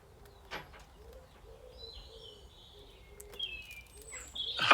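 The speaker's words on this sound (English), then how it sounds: "there's a weird bird outside" A large bird calls outdoors with odd, intermittent high-pitched cries, some drawn out and wavering, heard at moderate distance over quiet ambient background.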